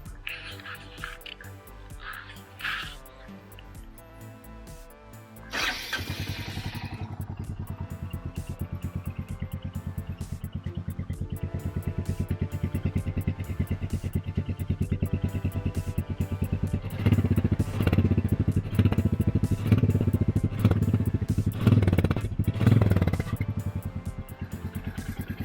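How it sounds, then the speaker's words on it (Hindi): A Royal Enfield Meteor 350 motorcycle cranks and fires up, then its engine and exhaust settle into a loud steady low thump that swells with a few revs toward the end, heard up close. "मिट्योर की कैसे आती है साउंड।"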